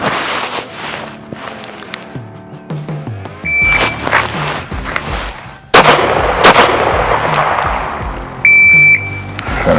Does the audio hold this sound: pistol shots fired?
yes